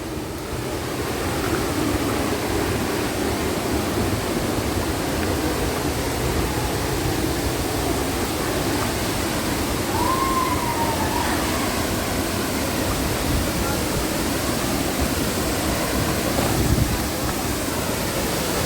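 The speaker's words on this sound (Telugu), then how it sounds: "చూడండి, ఊహించని విధంగానైతే వాటర్ ఫాల్ అయితే వస్తుంది చూడండి." Kongala waterfall, a roughly 70-foot fall swollen by recent rains, roars as a steady, loud broadband rush of falling water throughout, with no voices over it.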